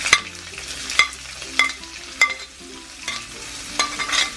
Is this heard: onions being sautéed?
yes